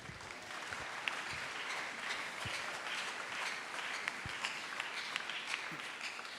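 A church congregation applauds for the Lord during a Sunday service, sustained dense clapping from many hands filling the room steadily throughout, with no break.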